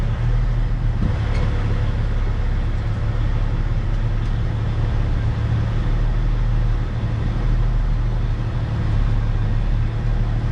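Bed truck engine moving a drilling rig crown during a derrick move: a steady, loud low diesel rumble and drone running unbroken throughout, with only faint mechanical clanks above it.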